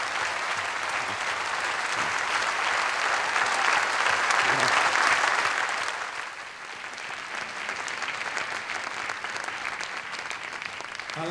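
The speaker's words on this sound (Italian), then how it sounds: "Godici l'applauso un momento da sola" A theatre concert audience applauds poet Alda Merini, a dense, sustained wash of clapping that swells toward the middle, then eases slightly and carries on steadily.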